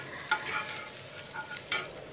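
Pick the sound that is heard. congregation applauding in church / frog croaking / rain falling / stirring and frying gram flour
stirring and frying gram flour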